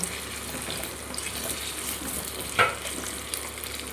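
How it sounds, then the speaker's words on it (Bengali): Small diced potatoes dropped into hot oil seasoned with nigella seeds, a moderate continuous sizzle with one sharp clatter midway, no one speaking. "তেল গরম হয়ে গেছে, দিয়ে দেবো আমি ছোট ছোট করে কেটে রাখা আলু"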